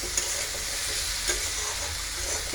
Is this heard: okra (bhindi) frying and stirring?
yes